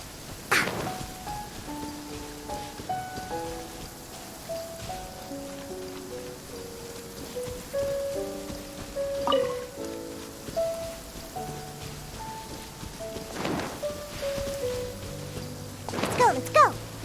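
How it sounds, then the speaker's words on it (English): Rain falls steadily in the video game Genshin Impact, a soft continuous patter under game music with tonal notes, with a few louder splashy bursts standing out briefly. "Rain! I hate rain."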